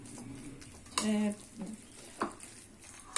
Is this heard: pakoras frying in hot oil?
yes